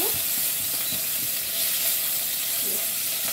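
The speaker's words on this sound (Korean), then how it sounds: "여기에다가 소고기를 넣고 제가 볶을 거예요." Beef stir-frying in a hot pan, a dense continuous sizzle close by with soft scraping and tossing sounds from stirring, no voices.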